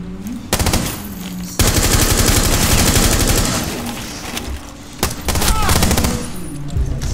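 Gunfire in the tactical shooter Rainbow Six Siege, loud rapid automatic bursts from a Vector submachine gun, close and sustained with short breaks between volleys, a voice briefly speaking alongside.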